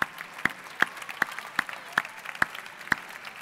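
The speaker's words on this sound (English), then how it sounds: "take a round of applause" Audience applause for judges and lead teachers at the F1 in Schools World Finals 2014 awards ceremony, a thin scattering of claps with a few loud, evenly spaced close claps standing out, fairly faint overall.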